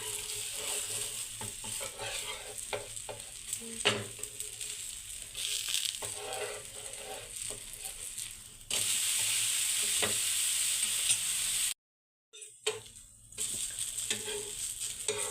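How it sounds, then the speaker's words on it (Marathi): A sorghum flour flatbread (dhirde) sizzles in a pan as it is turned, with a soft, continuous frying hiss, scattered scraping and stirring noises, and one short silent gap near the end. "आता आपण याला उलटून घेऊयात एक बाजू छान अशी झालेली आहे आपली"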